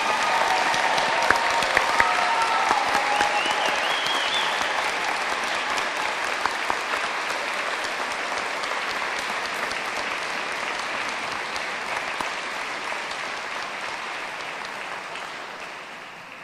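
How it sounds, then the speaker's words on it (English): Sustained applause from an audience at a National Honor Society spring induction ceremony, a dense steady wash of many hands clapping that runs unbroken for over fifteen seconds, only tapering slightly at the very end. "May we please have a round of applause for our new National Honor Society members."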